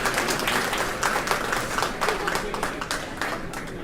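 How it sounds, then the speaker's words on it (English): Applause at a design conference for the speakers of an earlier panel: a steady wash of many hands clapping in a room, fairly loud and sustained, with faint crowd murmur underneath. "a round of applause for all the speakers in the earlier panel"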